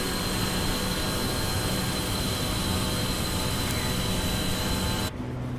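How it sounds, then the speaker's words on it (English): A steady, loud roar like a nearby jet aircraft in Microsoft Flight Simulator fills the air without a break, then drops abruptly to a quieter hum at the very end. "Somebody's in a jet."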